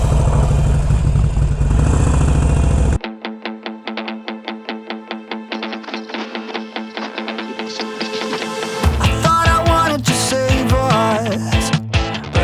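Harley-Davidson Iron 883 from 2013, heard first as a broad rumble, then as a throbbing, pulsing engine note that climbs in pitch and loudness as it revs while being ridden.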